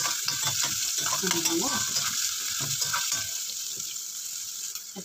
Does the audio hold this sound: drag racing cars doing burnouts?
no